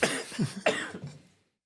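Two raspy coughs close to the mic, one after the other, trailing off into silence.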